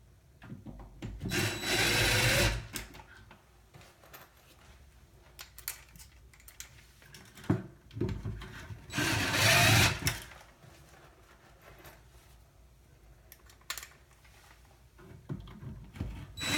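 Power drill driving screws during a wall-mounted kit install, two loud whirring bursts of a couple of seconds each, separated by quieter handling noises and clicks, heard without talk.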